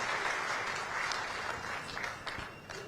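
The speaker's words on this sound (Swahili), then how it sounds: "Tupige tena makofi kwa Young Africans." A large crowd at a stadium event for the Young Africans football club applauds steadily, with dense, sustained clapping filling the whole stretch without a break.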